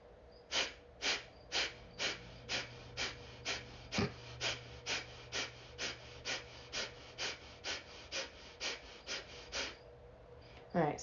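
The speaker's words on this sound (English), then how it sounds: "you can listen to these next 10 strokes of breath" Forceful rhythmic pranayama exhales, about twenty sharp nasal breaths out at an even, quick pace, close and clear over a quiet room.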